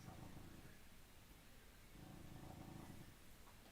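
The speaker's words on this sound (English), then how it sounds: "You're still purring though," A cat purrs up close, faint and soft, its rumble pulsing in slow breathing cycles and heard on its own.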